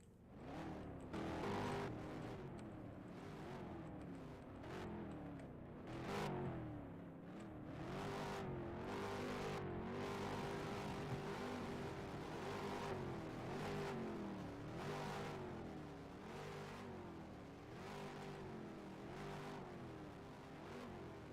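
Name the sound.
race car engines starting and revving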